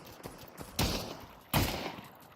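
Gunfire in the VR shooter Pavlov VR: two distinct bursts, each a sharp report with a decaying tail, separated by under a second, heard at moderate distance over faint background.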